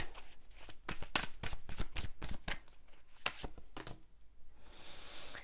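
Tarot cards are shuffled in quick riffling bursts, a close papery flutter that comes in rapid repeated slaps, followed by a softer sliding rustle as cards are drawn.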